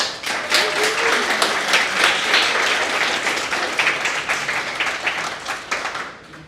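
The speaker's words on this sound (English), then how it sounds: "So if you all could just join me in just giving a round of applause." An audience at a cities-for-people event breaks into a round of applause, steady, full clapping from many hands that holds for several seconds before tapering off at the end.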